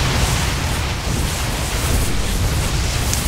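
Photon cannons collapse under attack during a StarCraft II match on Metalopolis, giving a dense, continuous roar of blasts and crackling destruction that stays loud and unbroken throughout.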